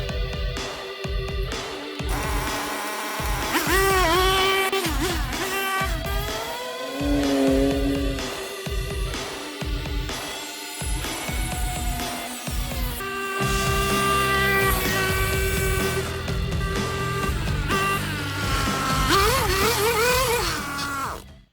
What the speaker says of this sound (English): this pocket rocket can move under its own power now